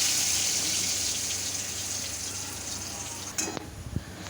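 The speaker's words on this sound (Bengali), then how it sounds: "এগুলো একটু আমি তেলে ভেজে নেব লাল লাল করে।" Potatoes frying in hot oil for an egg curry, a steady close hiss and sizzle running throughout, with a couple of brief clatters near the end.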